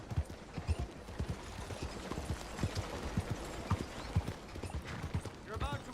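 In Red Dead Redemption 2, a horse's hooves beat out a continuous clip-clop, close and evenly paced, with faint tack rattles and no talk.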